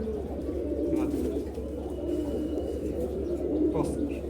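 Low, throaty cooing from racing pigeons repeats steadily under a constant hum, with brief higher chirps and a person talking nearby.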